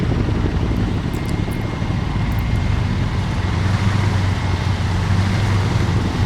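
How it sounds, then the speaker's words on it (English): Helicopters in ArmA 3 give a constant low rotor-and-engine drone with a heavy rumbling hum, loud and unbroken throughout, with no speech on top. "It's kind of hard to hear with all these choppers"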